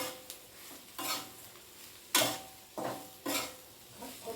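Ivy gourd pieces being stir-fried in a pan with salt and ground chili powder: soft sizzling under repeated scraping and clinking strokes of a spoon against the pan, several distinct stirring bursts at an irregular pace.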